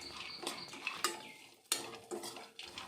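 Raisins and dry fruits frying in ghee in a pan for dry fruit ladu, with steady sizzling broken by several clinks and scrapes of a spoon stirring against the pan, and no talk.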